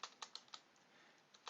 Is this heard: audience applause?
no